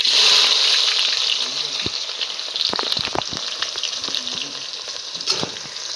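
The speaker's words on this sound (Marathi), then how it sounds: "आता तेल चांगलं गरम झालंय खडा मसाला टाकून घेते" Whole spices such as bay leaves, star anise, cinnamon, cloves and peppercorns crackle and sizzle in hot ghee for mutton dum biryani, a loud close frying hiss with sharp pops and spluttering bursts.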